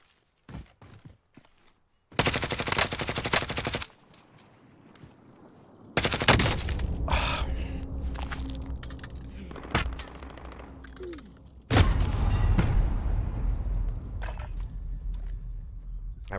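Gunfire in the video game Warzone comes in several loud, dense bursts of rapid shots separated by quieter gaps with scattered single pops, close and harsh.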